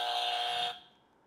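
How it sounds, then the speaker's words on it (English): A game-show style buzzer gives one loud, sustained electronic tone lasting well under a second, then cuts off to near silence. "I got a buzzer."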